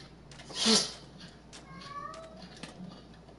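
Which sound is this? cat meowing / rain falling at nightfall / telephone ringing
cat meowing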